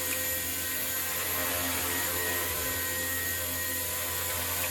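A radio-controlled model helicopter fitted with new rotor blades flies nearby with a loud, steady high-pitched whine of motor and rotors, constant throughout with no voices.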